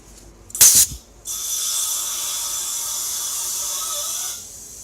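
A sharp burst of compressed air squirts into a Polaris Indy 600 XLT snowmobile's fuel system, followed by a steady loud hiss lasting about three seconds before it cuts off and fades.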